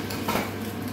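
A cooking pot is covered again with its lid while pork sauté with olives, peas and lardons cooks, giving a single short metallic clatter of lid on pot, close and moderately loud, with no talk.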